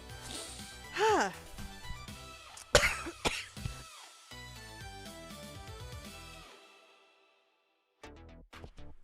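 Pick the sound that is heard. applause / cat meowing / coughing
coughing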